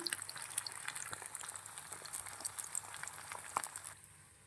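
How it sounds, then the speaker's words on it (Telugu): Potato pieces frying in hot oil in a pan, a dense close crackle of rapid pops and spits that carries on steadily and thins out near the end, with no voices. "పొటాటో పీసెస్ని ఆయిల్లో ఫ్రై చేసుకోవాలి. బాగా ఫ్రై చేసుకోవాలండి పీసెస్ని"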